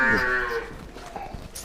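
A large young female calf on a farm gives one loud, close moo that slides down and fades, followed by quieter farmyard background with a few soft knocks.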